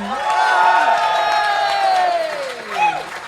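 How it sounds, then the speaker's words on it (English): A live podcast audience cheers and whoops loudly for a guest coming on stage, rising shouts and cheering voices over clapping, fading slightly then swelling again near the end. "make sure you give them a lovely round of applause as you just did."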